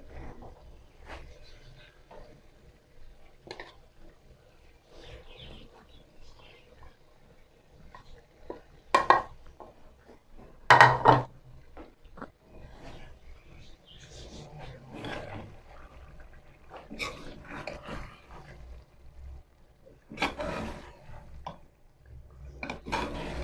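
Kachnar buds are stirred into tender cooked chicken in a pot, giving intermittent scraping and clanking of a spoon against the metal, with a few louder close bursts midway and no talking.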